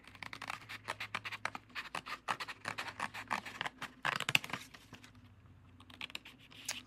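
Scissors cut through a rectangle of thin cereal box cardboard to make a bookmark, giving quick, close, crisp snips and scratchy rustles in an uneven run, with no voices.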